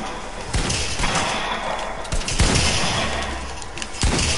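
Loud, rapid shotgun blasts from a shooter video game, several sharp booming reports with thuds and impacts in a dense, chaotic firefight that stays busy throughout.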